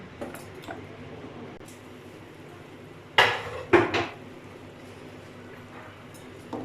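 A cooking pot holding mutton shorba is opened after its steam is released, with two sharp metallic clanks of the lid close together, then quiet kitchen background.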